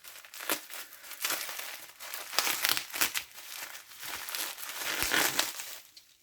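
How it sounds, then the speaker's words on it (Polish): Plastic packaging rustles and crinkles close by, in uneven crackly handling that goes on throughout with short sharper crunches. "Przepraszam Was za szeleszczenie"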